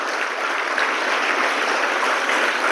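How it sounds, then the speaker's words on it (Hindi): Steady, dense clapping from a school seminar audience in Hisar, a continuous broadband wash of many hands at constant loudness throughout, with no talk over it. "उनके लिए एक बार जोरदार तालियां।"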